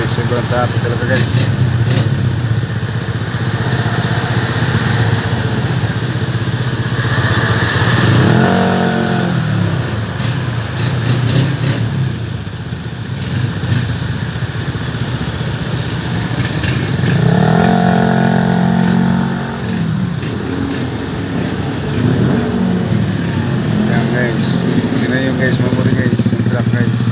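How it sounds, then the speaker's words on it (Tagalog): Heavy street traffic with motorcycles revving, engines rumbling and accelerating in loud, steady waves that swell twice, while voices talk over the constant drone. "sobrang traffic talaga guys"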